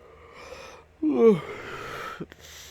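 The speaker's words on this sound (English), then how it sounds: "A genuine yawn, actually." A person giving a genuine, drawn-out yawn, a rising breathy groan that swells and fades, close and fairly loud, followed by a short exhale.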